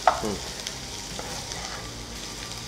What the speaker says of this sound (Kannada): ಇದನ್ನು ಹಾಕ್ಕೊಂಡು ಚೂರು ಫ್ರೈ ಮಾಡ್ಕೊಳ್ಳೋ